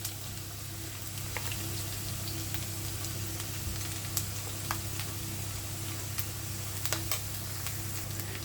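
Ground masala paste sautéing in a pan for mushroom ghee roast, a steady soft sizzle with scattered faint clicks and ticks of stirring, no talking.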